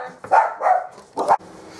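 Several loud, close dog barks, three sharp ones in quick succession followed by a fourth after a short pause, against an otherwise quiet indoor background.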